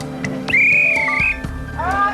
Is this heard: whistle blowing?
yes